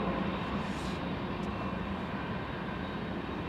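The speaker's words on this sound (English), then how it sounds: "look at that seaplane" A seaplane flying past, its propeller engine giving a steady broad drone, moderately loud and sustained throughout with no talking.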